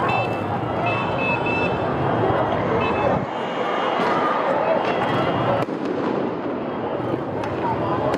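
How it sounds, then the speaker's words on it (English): Fireworks go off in downtown LA during protests, with a dense, continuous crackling and popping that carries on for the whole stretch, loud and close, with a few sharper bangs mixed in. "Mostly just some fireworks."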